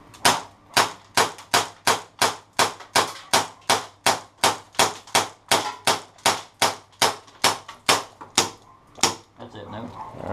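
Airsoft pistols fire in a rapid shootout, about two dozen sharp, loud cracks in a steady, quick rhythm, close by and with no talk over them.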